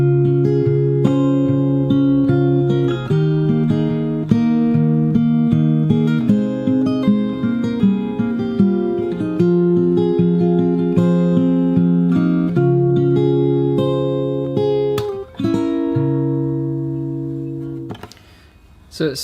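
Fingerstyle acoustic guitar plays a six-bar passage of plucked chords and melody, clear and close, ringing notes in a steady rhythm before fading out near the end.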